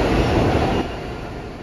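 A subway train rumbling through a station, a loud continuous low roar that drops slightly in level partway through, heard alone.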